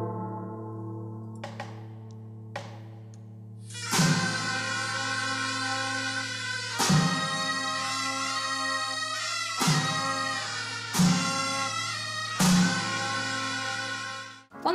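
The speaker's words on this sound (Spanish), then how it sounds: "una marcha militar, tocada por instrumentos de viento y percusión" Korean daechwita military march played on wind and percussion instruments: sustained reedy wind tones over a low drone, punctuated by sharp, loud percussion strikes at spaced intervals, with no voices.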